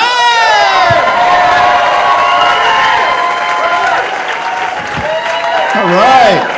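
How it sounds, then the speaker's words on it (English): A comedy club audience claps and cheers loudly as New Jersey comic Gerard Bird is brought to the stage, with whoops and a speaking voice over the sustained crowd noise. "Ladies and gentlemen, start clapping it up for Gerard Bird!"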